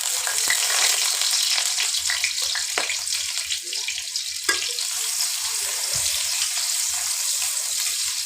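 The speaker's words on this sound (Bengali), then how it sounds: "এই যে কড়াইতে প্রথমে সরষের তেল দিয়ে দিলাম দিয়ে এর মধ্যে পেঁয়াজ কিছু দিয়ে দিলাম" Onions frying in mustard oil in a wok, a steady close hissing sizzle with occasional clicks and stirring taps, no talk over it.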